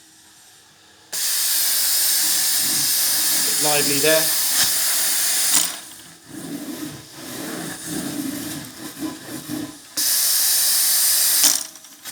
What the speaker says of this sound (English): Got a lovely spray pattern on this pre-owned wand.